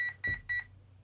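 Three short, evenly spaced electronic beeps from a Flysky NB4 RC receiver during setup, close and clear against a quiet background.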